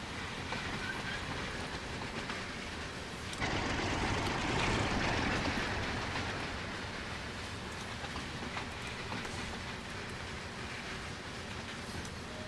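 Tram running on a railway line in a video game, a steady rumbling roll with a louder swell partway through, continuous and moderately close.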